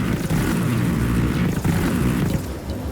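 Helicopter flight in the video game Ghost Recon Wildlands: a loud, continuous low rotor and engine roar that rumbles steadily throughout, with slight surges.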